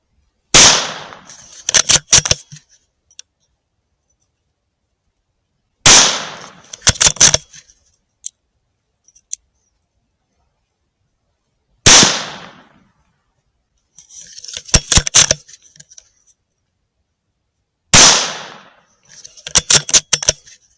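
Rifle fire during a night thermal hunt: four loud, sharp reports spaced several seconds apart, each followed by a quick cluster of cracks and clicks, with quiet gaps between them.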